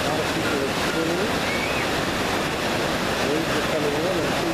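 Ocean waves breaking on the beach at Ocean City, New Jersey, a continuous loud wash of surf mixed with wind noise on the microphone, with faint voices in the background.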